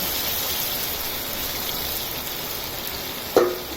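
Potatoes and eggs dropped into a hot pan after the water has cooked off, giving a steady hiss of frying with one brief sharp sputter near the end, close and moderately loud.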